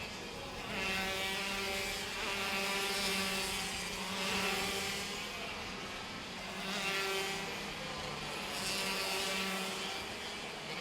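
KF racing karts scream through a centre chicane, engines rising and falling in pitch as drivers brake and reaccelerate, a continuous loud buzzing drone with several overlapping machines.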